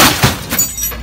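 Glass breaks as an old furnace is torn out during an RV renovation, a loud close crash followed by a brief scatter of shards and fading debris.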